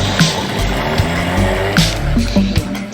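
A car in the video game Teardown skids and crashes, its engine blowing up, heard as a loud, continuous engine-and-tire roar broken by several sharp knocks and impacts.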